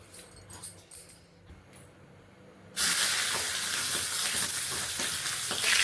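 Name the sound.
chicken liver frying in oil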